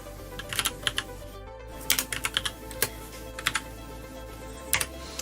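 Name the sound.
typing on a computer keyboard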